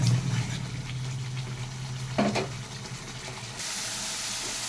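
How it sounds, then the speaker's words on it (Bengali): Water poured into spice paste frying in a pan sets off a steady, close hissing sizzle, with a brief clink of a utensil midway. "হাফ কাপের মতন আমি একটু জল দিয়ে দিচ্ছি"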